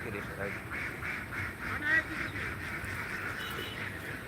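A group of ducks at a duck farm quacking in a faint, steady pulsing chorus at a distance, over low background noise.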